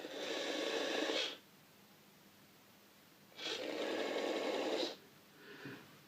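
A DCC Concepts Cobalt digital point motor throws a model railway point with a steady, close mechanical whirr lasting over a second, then runs again the other way, followed by a fainter short whirr.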